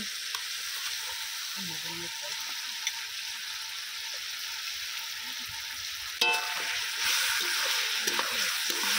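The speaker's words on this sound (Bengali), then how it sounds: "এবারে আমি ম্যারিনেট করা মাংসটা দিয়ে দিচ্ছি, মটন।" Marinated mutton frying in an oil-glossed spice masala gives a steady close sizzle, jumping louder and busier partway through as more meat hits the hot pan, with faint stirring and no voices.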